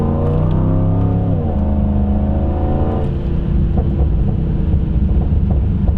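A Volvo S80 V8 in manual mode accelerates with a loud, steady exhaust note, its engine harmonics climbing and then dropping at a gear change before pulling on again, close up with no talk.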